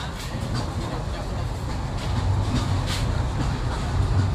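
Inside an air-conditioned seating coach of the Ruposhi Bangla Express, a passenger train running from India to Bangladesh via the Benapole border, a steady rolling rumble with faint rail clatter continues and grows slightly louder.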